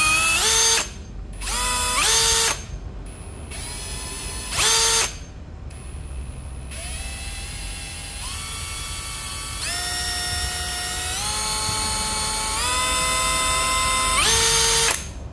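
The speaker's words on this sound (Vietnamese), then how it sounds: "cái này là khoan Hitachi, khoan Hitachi 18V không than" A Hitachi 18V brushless cordless drill runs in repeated bursts, short whirring starts and stops followed by a longer run with the pitch stepping up and down as speed changes, close and loud with no talk.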